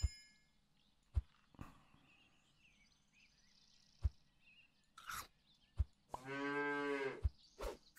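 A cow moos once in the video game Super Auto Pets, a short loud bellow near the end, set among sparse metallic clangs and dings from the game, with no talk.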